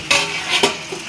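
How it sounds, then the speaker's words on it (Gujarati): Onion hits hot oil for a Gujarati tempering in a pan, a short, close burst of sharp sizzling with a second crackling flare and faint stirring. "તેલ મૂકીને વઘાર કરી નાખ્યો છે"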